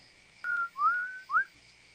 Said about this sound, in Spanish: el silbido sonó de nuevo